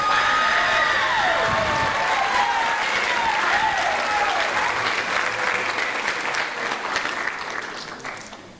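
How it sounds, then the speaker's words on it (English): A concert audience applauds an alto sax player at a county band concert, loud sustained clapping with some lingering instrument tones that slowly tapers off toward the end. "So let's give him a round of applause."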